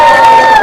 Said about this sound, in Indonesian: Coba tepuk tangan yang setuju